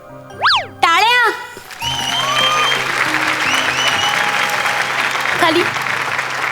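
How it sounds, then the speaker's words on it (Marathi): A comedy show's award presentation: after a couple of short cartoonish boing sound effects, a studio audience breaks into sustained, loud, dense applause that continues to the end. "टाळ्या"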